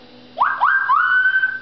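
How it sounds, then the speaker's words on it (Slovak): A child whistles a short tune: two quick rising chirps followed by a long sustained note, clear and close with no talk over it. "No ty budeš pískať."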